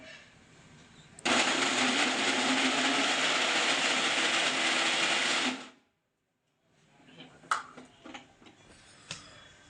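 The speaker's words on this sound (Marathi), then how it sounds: "हे मिक्सरमधनं काढायचे आपल्याला" A mixer grinder grinds leftover chapati in one loud, steady whir of about four and a half seconds that cuts off abruptly. Quieter clinks and kitchen handling sounds follow.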